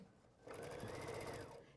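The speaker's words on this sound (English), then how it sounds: "I'm just sewing." A home sewing machine runs steadily for just over a second, stitching quilt pieces with a fast even whir, close and fairly quiet, starting abruptly after a brief pause.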